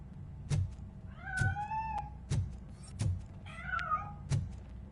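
A cat meows in the video game RoboCop, several separate meows including two long rising-and-falling calls, heard fairly close over soft background thuds, with no talking.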